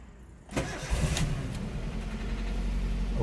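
A 2009 Toyota Avanza G is started. A short crank catches into a running engine, and the engine then settles into a steady, fairly quiet, low idle.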